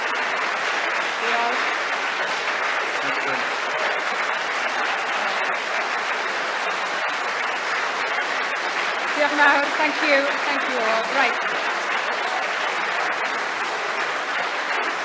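Sustained crowd applause at a Labour leadership hustings in Cardiff, a long steady wash of clapping with a few brief cheers, while a speaker briefly says thanks over it.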